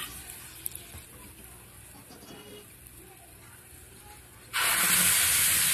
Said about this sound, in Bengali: আগে থেকে সর্ষে আর কাঁচা লঙ্কা আমি বেটে রেখেছি সেটাকে তেলের মধ্যে দিয়ে দেবো